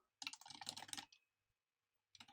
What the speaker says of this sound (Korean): 타이핑 할게요